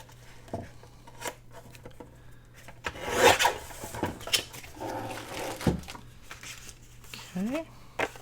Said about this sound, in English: Sorry about all the crinkling and all that,